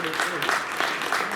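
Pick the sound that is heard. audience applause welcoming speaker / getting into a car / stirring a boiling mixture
audience applause welcoming speaker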